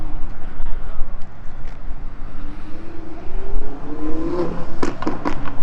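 A Lamborghini Urus arrives at an outdoor cars and coffee gathering, its engine note rising and growling closer under background crowd chatter, with people talking nearby.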